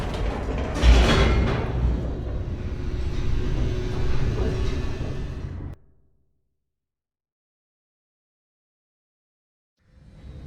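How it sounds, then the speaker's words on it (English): Elevator descending in The Stanley Parable Ultra Deluxe, a loud, steady mechanical rumble with a rushing whoosh that runs for several seconds, cuts off abruptly into silence, then a faint rumble returns at the very end. "The elevator raced downward, plummeting towards an unknown fate."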